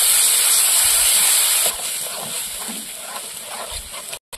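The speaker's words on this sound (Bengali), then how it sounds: "একটু জল দিয়ে দেবো।" Water poured into spinach paste cooking in a hot pan gives a loud steady steam hiss that eases after the first moment, then a softer bubbling sizzle that cuts off near the end.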